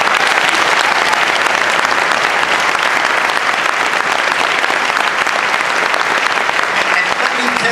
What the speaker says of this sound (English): I think they deserve a round of applause for all the hard work they did.